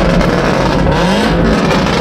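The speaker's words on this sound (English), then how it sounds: "I wonder if I should rev the machine." Stage 2 tuned BMW M340i at a large South Florida car show, its engine loud and close with a rough, throbbing rev that holds steady for a couple of seconds without speech.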